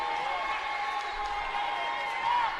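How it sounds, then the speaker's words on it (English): A crowd roars in a college basketball arena during an NCAA game. The cheering is a steady, broad wash that swells slightly at the end, with a commentator talking over it. "And now this crowd is really tuning it up here."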